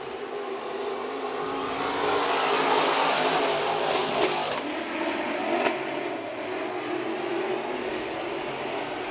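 Race cars restart a heat race at Bakersfield Speedway, a broad, steady roar of engines at a distance with swelling revs, continuous and without announcer talk in this stretch.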